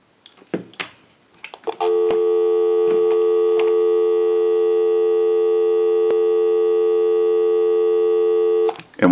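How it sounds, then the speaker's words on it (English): A steady electronic dial tone on a payphone line from an Automatic Electric chrome three-slot payphone, preceded by clicks and handling knocks, then holding loud and unbroken for about seven seconds before a click cuts it off. "We'll go ahead and give you some dial tone."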